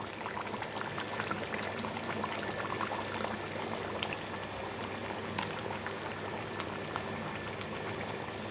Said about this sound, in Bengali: এবার আমি দিয়ে দেবো দই।